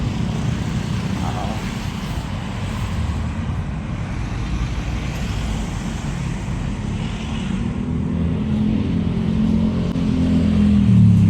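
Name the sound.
road traffic with passing vehicles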